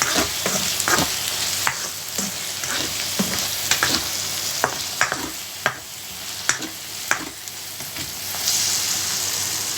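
Vegetable noodles stir-fry in a pan, a continuous bright sizzle punctuated by regular sharp clinks and scrapes of a utensil tossing the food, close and steady without talk.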